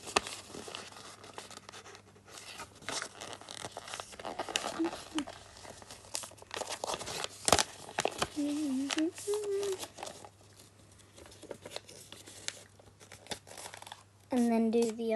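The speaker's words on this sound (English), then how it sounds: "you're going to fold these bits here from the top" Sheets of paper crinkle and rustle as they are creased and folded into a paper aeroplane, close scratchy handling noises that come and go while a person talks over them.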